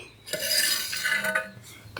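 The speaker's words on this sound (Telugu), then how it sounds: "ఇప్పుడు ఒకసారి మూత తీసుకొని చూసుకుందామండి" A metal lid clanks as it is lifted off a pot of broiler chicken curry, followed by a steady sizzling and bubbling from inside.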